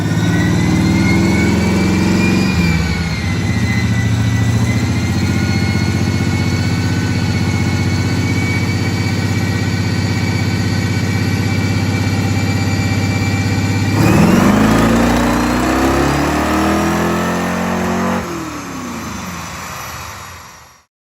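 A 1969 Pontiac Firebird V8 runs on a dyno, holding a loud steady drone, then climbing in pitch as it revs before dropping and fading out near the end.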